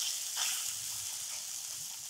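Okra (bhindi) coated in turmeric and spices sizzles steadily in a pan over a low flame, a soft continuous hiss with a brief stir near the start.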